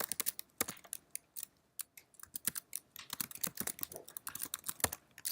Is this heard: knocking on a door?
no